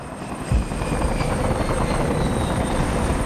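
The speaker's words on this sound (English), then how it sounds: "I got some helicopters coming down here off to my left flank" Helicopters approach from the left, simulated as part of a virtual reality therapy session for a patient with PTSD: a steady, loud rotor and engine roar that fills the whole span, with a brief thump near the start.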